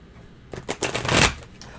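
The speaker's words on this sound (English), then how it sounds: "Shuffle, Mr. O." A deck of cards is shuffled during a live-stream card reading: a single quick riffle that swells from a faint start into a brisk, close flutter lasting about a second, with no voices.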